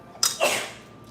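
A single close sneeze bursts out in a home kitchen, a sharp intake followed by a loud breathy explosion that trails off quickly.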